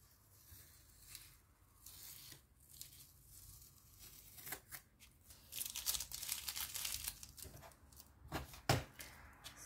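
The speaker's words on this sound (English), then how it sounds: "It peels really easily without peeling the paper with it." Washi tape peeling off watercolor paper, a series of soft crinkly tearing strips spread across the clip, close and quiet, with a louder rip near the end.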